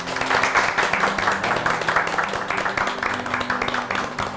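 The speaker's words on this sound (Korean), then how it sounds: "박수로 환영해 주십시오." Audience clapping to welcome a lecturer on fate and Eastern studies at a televised special lecture, a fairly loud, steady round of applause from a hall full of people with faint background voices.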